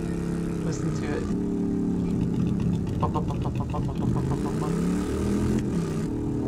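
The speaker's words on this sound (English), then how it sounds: "I love the motorcycle. The motorcycle. Listen to it." A motorcycle engine in 7 Days to Die drones with a steady buzzing hum, rising and falling slightly as it rides, with a brief rattling burst partway through.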